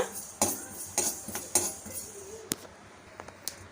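A spoon scraping and clinking against a kadai while fenugreek seeds are stirred and roasted, a few sharp metallic taps spaced irregularly, close and clear over a quiet background.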